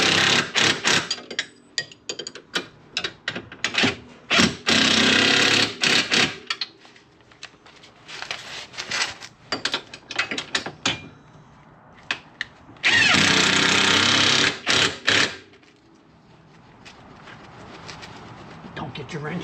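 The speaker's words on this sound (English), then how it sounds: "Tighten it all up." A tool tightens bolts on the rear sway bar of a 2023 Jeep Commander in loud, close, choppy bursts with a longer run near the end, with talk in between.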